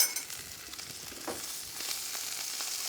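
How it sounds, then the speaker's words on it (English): Ribeye steak seared on a stovetop pan right after flipping, a steady close hiss and crackle of hot fat throughout with small popping spits. "And then I'm gonna flip the ribeye."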